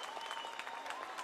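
Faint, distant crowd applause at a Pacific Mini Games medal presentation in Vanuatu, steady pattering claps honoring a bronze medallist, with no talk.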